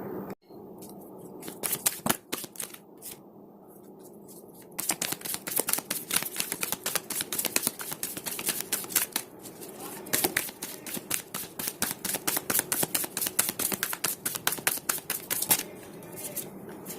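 Tarot cards being shuffled by hand, a quiet stretch followed by long runs of rapid, crisp riffling clicks, close and fairly loud, with brief pauses between bursts.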